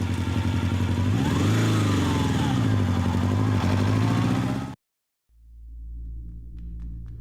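Motorcycle engine in a film scene running steadily with a rising rev, cutting off abruptly, then a lower idling engine rumbling back in.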